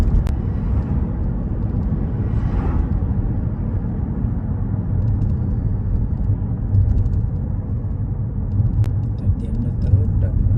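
A learner's car accelerates harshly along a 30 mph road during a mock driving test, its engine and tyre noise a steady, loud low rumble from inside the cabin throughout.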